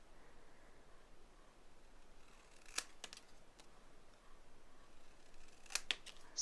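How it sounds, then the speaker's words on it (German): Scissors snip paper while a small decorative gift box is being crafted, giving a few sharp, quiet cuts: one pair of snips early, then a quick cluster near the end, over a faint hiss of room noise. "Das, was übersteht, kann ich gleich mit der Schere abschneiden"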